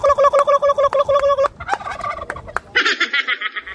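A turkey gobbles repeatedly in quick rattling bursts, close by, followed by another higher, chattering run of gobbles.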